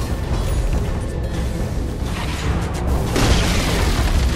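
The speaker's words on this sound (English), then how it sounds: "Radiant's middle tower has fallen." In Dota 2, Radiant's middle tower is destroyed with a loud, sustained rumbling boom of crumbling debris that swells near the end.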